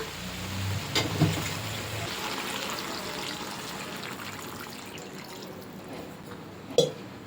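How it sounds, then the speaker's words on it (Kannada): Water poured into a pot of chilli chicken curry, a brief gush at the start fading into a soft trickle, with a couple of faint clinks and no talking. "ಇವಾಗ ಇದಕ್ಕೆ ನಾವು ಚಿಕನ್ ಬೇಯೋಷ್ಟು ನಾವು ನೀರು ಹಾಕೋಣ"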